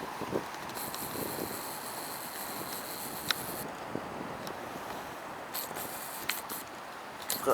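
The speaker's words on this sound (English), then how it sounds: "Bloody windy." Strong wind gusts buffet an outdoor microphone in a steady broadband roar with brief louder bursts, no voices present.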